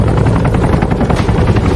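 A helicopter from an action film about a Megalodon gives a loud, steady, close rotor roar with a dense rhythmic chop and no voices.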